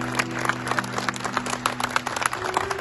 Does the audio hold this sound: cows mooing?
no